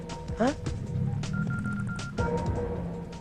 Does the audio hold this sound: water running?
no